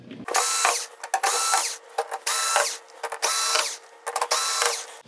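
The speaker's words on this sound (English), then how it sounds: "and then just remove these screws." Screws being removed from a circuit board inside a Vizio V436-G1 TV with a power screwdriver, giving several short whirring bursts that stop and start, loud and close, with no talking.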